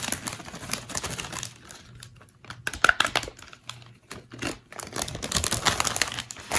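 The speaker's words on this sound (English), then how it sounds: "wiggle it around and shake up the bag until you get the color that you want" Polyfill stuffing shaken and wiggled inside a plastic bag with colored dust, giving a close, steady run of crinkling, rustling plastic with brief pauses and uneven bursts.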